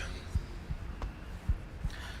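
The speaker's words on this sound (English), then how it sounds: "you can hear my pulse or my heartbeat starting to pick up" Heartbeat in Subnautica: Below Zero quickening as the player freezes in the Glacial Basin cold, soft low thumps in a steady pulse of about four beats over ambient game hum.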